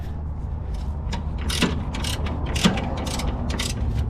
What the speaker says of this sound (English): Let's break this loose first. See how this bolt is turning.